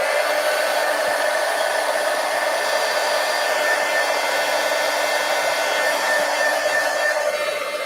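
A hair dryer blows steadily and loudly, drying stenciled and inked paper pages of a handmade mini file folder Christmas book, with a continuous unbroken whoosh throughout and no talking.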